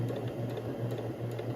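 A sewing machine runs a straight stitch and back stitch through fleece for a pom pom hat at a slow speed setting, giving a steady, low mechanical hum with a faint rhythmic clatter that continues without a break.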